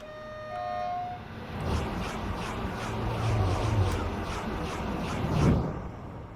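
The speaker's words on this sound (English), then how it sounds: "The APT is probably one of my favourite trains in Train Sim, just for the sounds it makes" An APT tilting train from Train Simulator 2021 rumbles past, rising in a broad low roar with rhythmic passing beats and a swell near the end, preceded by a brief steady tone.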